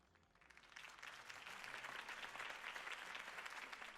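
A crowd applauds after a campaign speech in the Telltale Batman game, clapping swelling from quiet to a dense, sustained roar of hands that holds steady to the end.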